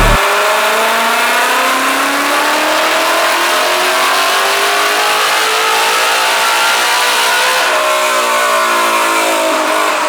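A Roush-supercharged Gen 3 Ford F150 Raptor on E85 revs hard on a dyno, its engine pitch climbing steadily in one long loud pull, then dropping and rising again near the end.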